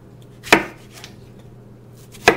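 Kitchen knife chopping a tomato on a cutting board: two sharp, distinct chops about two seconds apart with a few softer cuts between them, close and fairly quiet.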